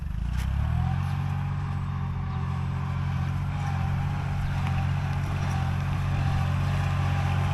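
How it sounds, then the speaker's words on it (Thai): A walk-behind tractor engine drones steadily while plowing a rice field, a loud, close, continuous putter with a low rumbling throb and no pauses. "ระวังรถไถหน้าเดินตามนะครับ"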